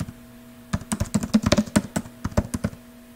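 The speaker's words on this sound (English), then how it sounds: "So I'll type." Typing on a computer keyboard while entering text in a video editor, heard as a close, rapid run of light clicking keystrokes in an uneven rhythm after a short quiet start, with no voice.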